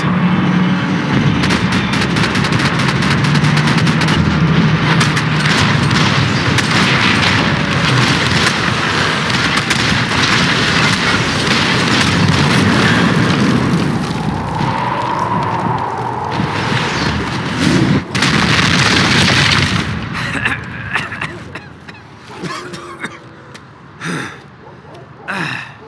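Gunfire and explosions from a hotel terrorist attack in Max Payne 3, loud, dense crackling shots and booming blasts under shouted voices, thinning into scattered bursts toward the end.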